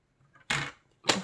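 Paper trimmed with scissors or a paper cutter for a handmade card label, two quick, crisp snips separated by a short pause, close and fairly quiet.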